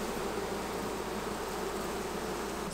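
Honey bees buzz densely around an open Australian backyard hive, a steady close swarm drone holding unbroken at moderate loudness without any voices.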